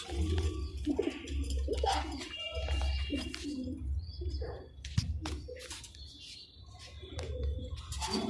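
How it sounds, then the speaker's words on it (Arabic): Pigeons coo in a loft of breeding birds, with red and pied birds among them. Soft, repeated cooing and chirping sounds are heard close by, over a steady low hum, with a sharp tap partway through. "انا كده بفرجكم فرجه سريعه للحمام"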